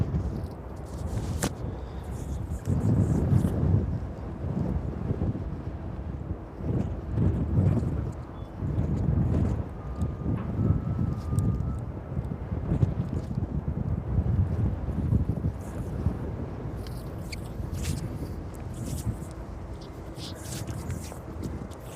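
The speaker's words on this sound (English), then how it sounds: "it's definitely the windiest we've felt it out here" Strong wind buffets the microphone outdoors at East Midlands Airport on a cold evening, producing heavy low rumbling gusts that surge and ease continuously throughout.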